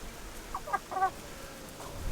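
Chickens give a few short clucks inside a coop during a quiet mid-morning rest, faint and close, followed by near silence.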